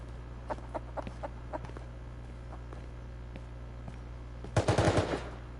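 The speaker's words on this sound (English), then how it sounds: "There's actual gunshots, but you don't see where they're coming from." Video game gunfire: a scatter of faint distant shots early on, then a loud close burst of rapid automatic fire near the end over a steady background hum.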